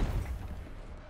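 Ammunition for an AGS automatic grenade launcher cooks off in War Thunder, a single dull boom that rumbles and fades quickly.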